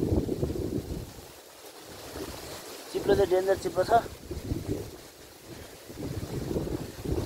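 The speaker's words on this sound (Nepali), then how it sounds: "हावा त डेन्जर चल्छ त गाइस" Strong wind on an open hilltop buffets the microphone in low rumbling gusts, easing briefly, while a person talks over it in the middle.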